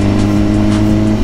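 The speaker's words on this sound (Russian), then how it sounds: "Опять машина, да?" A car passing close on the road, a loud steady engine drone heard from a moving sportbike ride, filling the whole brief moment with no talk over it.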